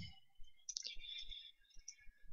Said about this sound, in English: Sorry, let me type that properly.